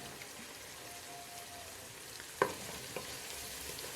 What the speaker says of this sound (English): I mixed everything thoroughly